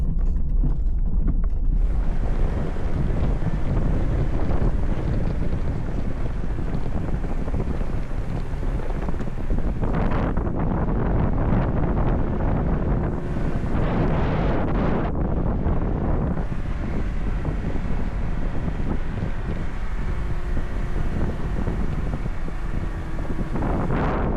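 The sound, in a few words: strong wind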